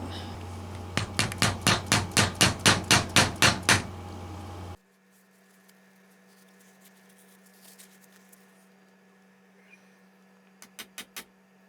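A glued, grooved dowel tapped into a Chet Atkins Nashville guitar neck during a neck reset: about a dozen evenly spaced, crisp hammer taps, then near silence, then a few more quick taps at the end.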